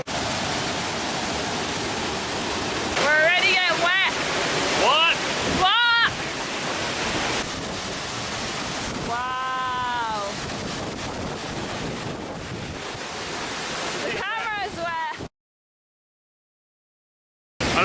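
A heavy waterfall in Munduk, Bali, roars as a steady, dense wash of noise, with a few squeaky bird-like calls cutting through before it ends abruptly.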